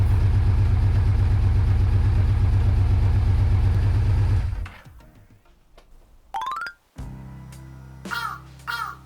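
A Yamaha Vmax 1200 motorcycle engine idles steadily with a low, even throb, then drops off into quieter mechanical noise, punctuated by brief higher-pitched bursts.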